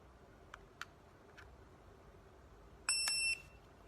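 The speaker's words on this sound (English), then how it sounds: "Here sound of beep" A Retekess T112 restaurant pager gives one short, bright electronic beep after a few faint clicks, quiet and close.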